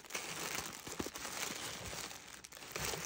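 Shiny paper crinkles and crackles as it is handled, a steady close rustle with small sharp crunches scattered throughout, no voices over it.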